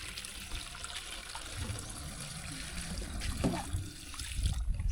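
Water at a village well in a Mangkong tribal village in Nong district, Savannakhet, Laos: a steady outdoor wash of trickling and splashing water, moderately loud, with a few brief knocks and movements near the end and no clear talking.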